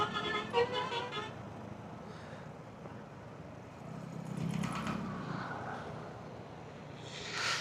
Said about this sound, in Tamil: அவங்களுக்குள்ளேயே ஹாரன் போட்டு வச்சுக்கிறாங்க